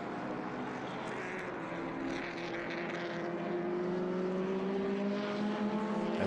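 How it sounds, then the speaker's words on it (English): A Datsun B210 race car during an SVRA vintage race at WeatherTech Raceway Laguna Seca, a loud sustained engine drone that rises steadily in pitch as the car accelerates. "That's a Datsun B210 there of Richard Bateman."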